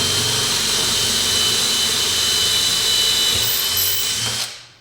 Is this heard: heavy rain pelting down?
no